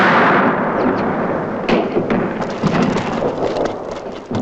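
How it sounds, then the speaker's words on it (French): A WWI artillery bombardment prepares a counter-offensive, heard as a dense rumbling roar of distant explosions with sharper booms breaking through, continuous and heavy throughout. "Le général Mangin, qui commande la contre-offensive, une préparation d'artillerie."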